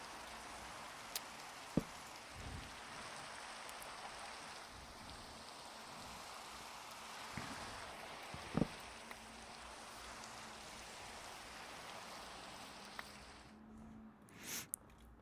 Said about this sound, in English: it decided to start raining